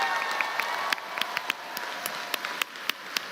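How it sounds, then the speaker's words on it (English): A convention audience at San Diego Comic-Con claps in a short round for a cast member, with a dense patter of hands and a few sharper nearby claps standing out as the applause slowly thins. "But a little round of applause for Sam Riegel."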